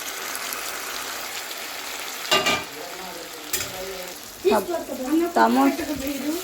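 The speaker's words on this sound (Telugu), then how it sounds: "టమోటాలు అయితే వేస్తున్నాం" Tomatoes dropped into a hot pan with ginger paste for a brinjal curry, sizzling and frying steadily throughout with a few louder bursts of spatter and stirring, close and fairly loud.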